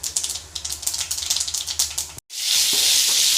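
Urad dal and curry leaves go into hot oil after mustard seeds have popped, giving a crackling, spitting sizzle with rapid ticks, then a short cut and a louder, smoother hiss of frying up close.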